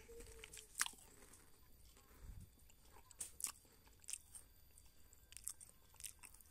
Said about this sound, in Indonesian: ya cookiesnya enak renyah rasa kopinya berasa